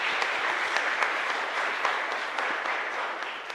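A congregation claps during Sunday mass at a parish church, a dense, moderately quiet ripple of applause with scattered sharper claps and no voices.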